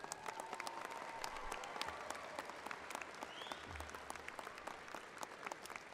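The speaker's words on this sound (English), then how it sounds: "Would you please give them a round of applause?" A commencement crowd at Idaho State University's spring ceremony applauds the staff with steady, dense clapping that fills the hall for the full six seconds without letup.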